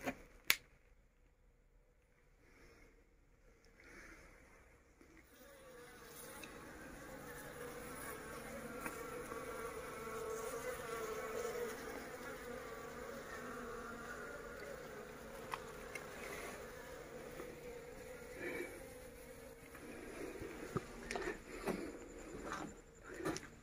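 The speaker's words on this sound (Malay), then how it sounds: "Mula-mula tadi saya ingat bunyi lalat" Bees buzz in a steady drone that swells and lingers, growing louder after a quiet start, with a few faint clicks and taps.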